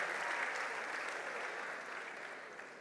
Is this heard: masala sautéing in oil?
no